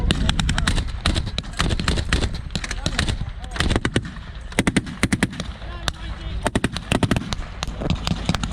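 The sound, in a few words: M1919 machine gun firing from a Jeep at battle reenactment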